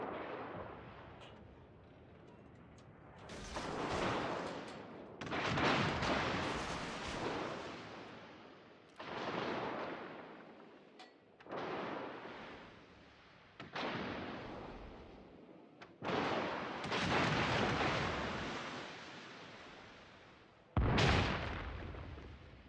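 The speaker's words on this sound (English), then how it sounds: "Concentrate fire on the enemy warship." Naval gunfire from warships during a World of Warships battle: repeated heavy, booming salvos with long rumbling tails, around eight big blasts spread over the stretch with quieter gaps between them.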